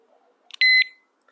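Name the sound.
disc brake lock beeping when armed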